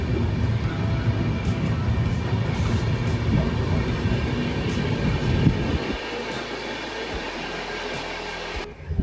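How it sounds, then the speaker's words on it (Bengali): The Jammu Express passenger train rolls along in India with a loud, continuous rumble and rattle heard from inside the coach. Near the end the noise drops and turns into a lower, steadier hum. "জম্মু এক্সপ্রেস কিন্তু ঠিক টাইমই আছে আমরা কামারকুণ্ড থেকে উঠলাম"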